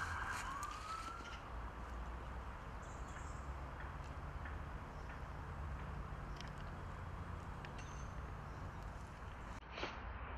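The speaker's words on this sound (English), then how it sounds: "Even the fire alarm's going off over there, or the ambulance." A siren wails in the distance during an outdoor pike fishing session, faint and steady under a broad hiss of wind and water, with a few bird calls scattered over it.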